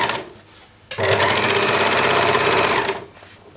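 An overlocker stitches a dress seam in one steady, loud rapid whir of about two seconds, starting abruptly and then stopping, with quieter machine hum before and after.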